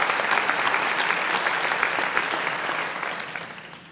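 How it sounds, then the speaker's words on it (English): A conference audience at a Chicago general session applauds. The thick, even clapping starts full and gradually tapers off over a few seconds. "they deserve a round of applause"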